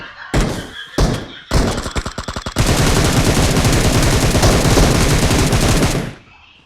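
Gunfire in the mobile game BGMI: a few single shots, then a rapid stuttering burst giving way to a long, loud, sustained automatic volley that cuts off abruptly near the end.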